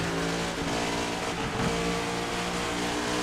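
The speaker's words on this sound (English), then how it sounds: "Although I do hear the cars actually" Steady roar of sim-racing cars running on a track, engines droning continuously at a moderate distance with no voices.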